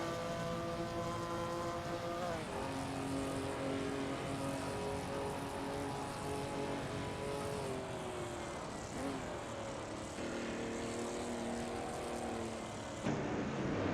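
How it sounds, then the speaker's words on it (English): AI-driven race cars lapping in a Le Mans racing simulator, several engines droning steadily with shifting harmonic pitch as cars pass and change gear, continuous and fairly loud throughout with no talk. "right now we are watching the racing cars driven by artificial intelligence in the simulator."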